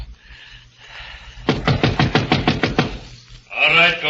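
Furniture shoved against a door in an old radio drama: a quick run of about ten sharp knocking thuds, preceded by quiet shuffling and followed by a voice.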